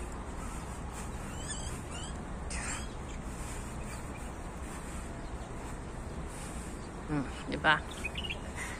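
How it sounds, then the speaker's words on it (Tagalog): Many birds chirp and call outdoors in a grassy area with buildings nearby, the calls scattered and fairly distant over a steady background hiss, followed by a brief spoken word. "Ang daming ibon, oh."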